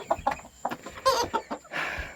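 American Bresse hens cluck in a coop, a series of close, short clucks and squawks in uneven bursts, ending with a longer raspy call.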